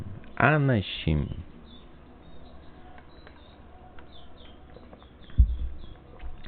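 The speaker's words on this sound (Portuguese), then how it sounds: "o passarinho cantando aqui perto" A small bird sings nearby in a series of faint, high, thin chirps repeated steadily over a quiet background, while someone speaks briefly at the start and again near the end.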